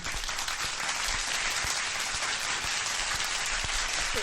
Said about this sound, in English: the clapping was so loud I couldn't hear you